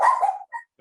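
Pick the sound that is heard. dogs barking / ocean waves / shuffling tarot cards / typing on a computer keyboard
dogs barking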